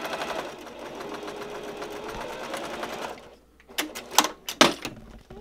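A sewing machine stitches fabric for a love knot table runner, its rapid even chatter running for about three seconds before stopping, followed by a few sharp clicks and handling knocks.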